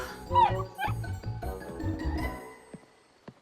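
A cartoon dog yips in quick high bursts and then whimpers, a few sharp close cries followed by fading whines and small thuds, with no talk over them.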